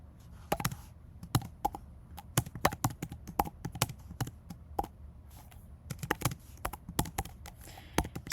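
Keys clatter on a computer keyboard as Python code is typed, in quick, uneven bursts of sharp clicks with short pauses between them, close and fairly quiet.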